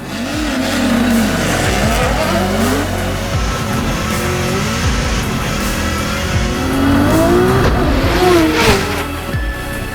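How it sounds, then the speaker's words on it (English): Drift cars race on an eighth-mile drag strip at Irwindale, engines revving and tires squealing in a loud, continuous roar with shifting pitch sweeps, under faint commentary. "The 8th mile track at Irwindale will once again host the challenge of the NGK Drag Race."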